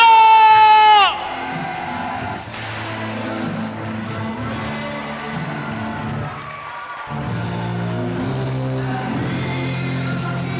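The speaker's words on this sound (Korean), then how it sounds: "이 트로피를 전달받는 순간 여러분 환호를 보내주셔야 됩니다" A crowd roars and whoops at the 2022 Korea pro table tennis league women's trophy ceremony as champions Posco Energy receive the trophy. The loud cheering is sustained for about ten seconds, with a brief surge at the start.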